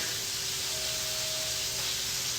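Wagyu beef burger patty searing hard on a hot cooking surface, a steady close sizzle and hiss holding evenly throughout with no talk.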